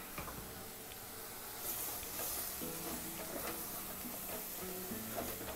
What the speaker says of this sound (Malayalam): ഇതിലേക്ക് നമുക്കൊരു അല്പം ഉപ്പും കൂടി ചേർത്ത് കൊടുക്കാം. ഇനി ഇത് നന്നായിട്ടൊന്ന് മിക്സ് ചെയ്യാം.